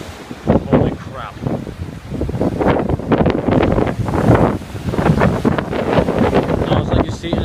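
Ocean waves and strong wind on a beach, a loud, continuous roar of surf with heavy wind buffeting the microphone throughout.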